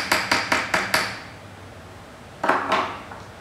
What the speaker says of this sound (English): Get your hammer.